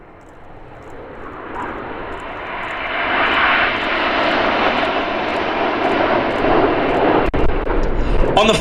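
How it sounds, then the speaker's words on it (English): An RAF Typhoon fighter jet roars past in a flying display at an air festival, its loud engine swelling over a few seconds and holding a broad, sustained roar, with a commentator talking over it. "This is Typhoon."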